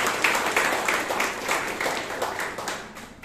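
An audience at a Toastmasters club meeting in Bangalore claps for a speaker, a brisk round of hand-clapping with distinct individual claps, moderately close, fading slightly toward the end.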